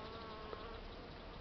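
Honeybees buzz at a beehive in an apiary, a dense, steady drone close to the microphone with no talking, lasting only a moment.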